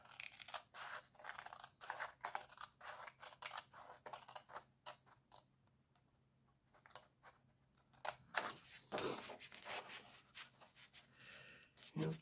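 Paper being cut with scissors while making a photo holder, a series of quick, crisp snips and rustles in irregular bursts, close and fairly quiet, with a short pause midway.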